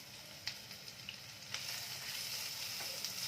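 A paste of garlic, green chilli and Kashmiri chilli goes into hot oil in a pan and sizzles softly, with a few light stirring clicks. The frying grows into a steadier, fuller hiss partway through.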